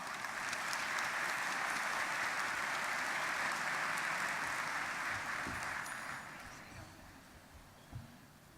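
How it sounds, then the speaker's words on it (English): An audience at a star students and star teachers awards event applauds, a dense, sustained clapping that carries on strongly for several seconds before tapering off toward the end. "I think they all deserve a round of applause."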